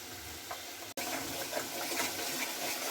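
Spice paste with Kashmiri chili powder fries in hot oil in a pan for a green banana kofta curry, giving a steady bright sizzle and hiss broken by one very short gap.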